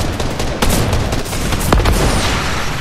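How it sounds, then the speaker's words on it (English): Rapid bursts of airstrike explosions from the video game Fortnite, a dense, continuous barrage of loud booms and crackling blasts at close range with little pause. "Dude, that airstrike is neat. But it is a very focused airstrike."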